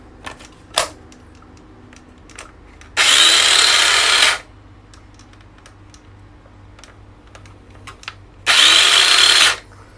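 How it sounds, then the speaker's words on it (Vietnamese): A small electric saw buzzes in two short bursts of about a second each, separated by quiet stretches with faint clicks and handling noises. "Cái cưa gỗ mini của Nati nha anh em."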